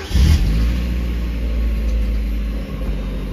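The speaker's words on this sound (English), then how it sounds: "pretty textbook startup for this car." A warm Mazda MX-5 Miata NA8 engine, with a replaced ECU capacitor, cranks and catches with a loud opening burst. It then settles into a steady, close, rumbling idle with no talking.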